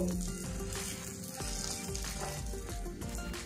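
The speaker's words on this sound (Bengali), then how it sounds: "বাকিগুলো আমি এইভাবে ফ্রাই করে নেব" Slices of eggplant fry in a pan with a steady, dense sizzle that runs the whole time, close and loud. No one speaks over it.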